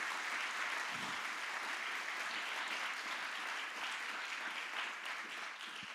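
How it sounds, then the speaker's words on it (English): A TEDx event audience applauds its speakers: sustained, dense clapping from a large crowd, even and full at first, then easing slightly toward the end. "Can we please give all of our speakers a round of applause?"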